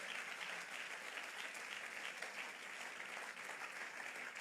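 A church congregation at a Sunday service applauds in praise of God, a soft, steady, even patter of many hands sounding somewhat distant.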